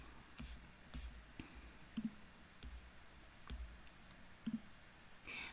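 Computer mouse clicking on an image, sparse single and double clicks, quiet and close, with faint desk handling sounds between them.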